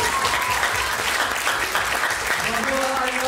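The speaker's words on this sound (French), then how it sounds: "On va applaudir tout le monde en parlant." A theatre audience applauds the performers after a show in Nangis, a dense, steady round of clapping filling the room, with voices talking faintly beneath it.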